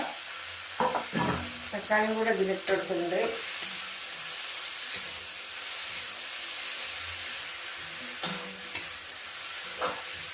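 Green chili, curry leaves, ginger and tomato fry in a pan with a steady sizzling hiss, while a utensil stirs and scrapes at the start and a voice talks briefly over the cooking.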